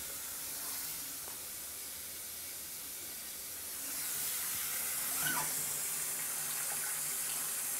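Hot water runs from a tap during a home inspection, a steady rushing hiss that grows somewhat louder and fuller midway through and continues unbroken, close by with no talking.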